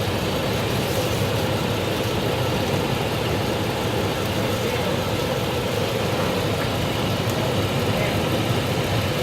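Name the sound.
car engine running at idle during transmission check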